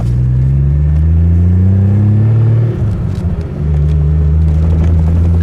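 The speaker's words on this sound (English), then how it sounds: "So there you have it, just a short, quick test drive." A 1970 Triumph TR6 project car out on a short test drive, with a steady loud engine drone and road rumble heard from on board, a brief dip in engine pitch midway as if shifting gear, then a return to cruising.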